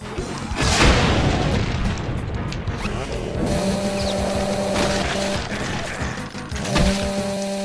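Rocket blasts and gunfire in Brutal Doom, with loud explosive booms and crashing impacts over continuous game noise.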